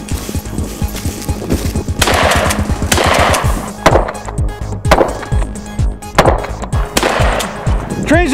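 Mossberg 500 shotgun fired in a run-and-gun course at steel targets, a string of sharp, loud blasts roughly once a second with ringing impacts between, brief shouted commands nearby.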